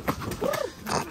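A slim sport horse under saddle during riding training, with a few muffled hoof thuds and a faint snort-like sound over about a second, close by and fairly quiet.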